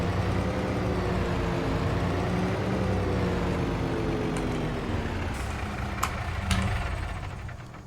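A Mack Anthem grain truck in Farming Simulator 25 drives with a loud, steady diesel drone that eases off toward the end, where a few brief clicks and a short hiss come in. No one speaks.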